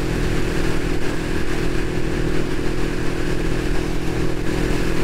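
Kawasaki ER5 motorcycle riding at a steady speed of about 80 km/h, its engine a loud, continuous drone mixed with wind rush that holds constant without gear changes.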